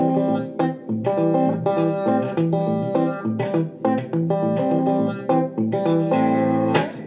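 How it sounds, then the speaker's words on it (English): An electric guitar plays a Travis-picked fingerstyle pattern, with an alternating bass under plucked melody notes, some of them muted, in a steady, bouncy rhythm. "it's a little bit of Travis picking, a little bit of muted fingerstyle playing"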